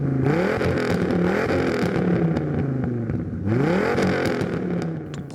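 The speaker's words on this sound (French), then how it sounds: "Chaque démarrage, chaque accélération, chaque résonance du moteur en ville est un pur régal auditif." A Volvo 850 T5-R with its 2.5-litre five-cylinder engine accelerating in town, a throaty, growling rise in pitch heard twice as it climbs through the revs, loud and close, with brief easing between the pulls.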